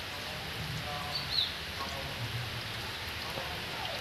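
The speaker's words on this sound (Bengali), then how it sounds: "বাইরে বৃষ্টি চলছে" Steady rain falls outdoors with a soft, even hiss that holds at a constant moderate level throughout, with no voices and only a faint brief chirp partway through.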